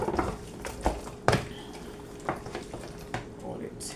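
Chicken for Jamaican brown stew browns in a pot with a soft sizzle, broken by spoon stirs and scrapes against the pot and occasional louder clanks.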